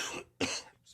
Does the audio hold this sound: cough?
yes